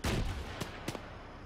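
Artillery firing in the video game ArmA 3: a loud low boom opens, and two sharper distant reports follow about a third of a second apart.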